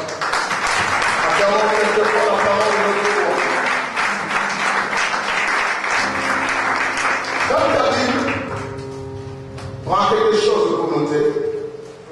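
Congregation applauding at the close of a sermon by Bishop Papy Nkumu, a dense, sustained round of clapping with cheering voices mixed in, then fading and briefly swelling again near the end.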